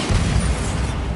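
Bombarda blasting spell explosion in the video game Hogwarts Legacy, a single loud, dense rumbling blast sustained throughout, with no voice over it.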